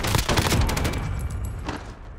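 Heavy bursts of automatic gunfire from a Call of Duty Warzone match, loud and dense rapid volleys that carry on without pause and fade slightly toward the end.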